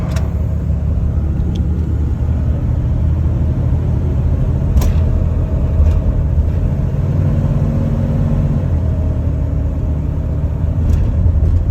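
A 1999 Dodge Ram Van 1500 camper van rumbles at a steady engine drone while driving, a constant low road and motor hum with faint occasional ticks.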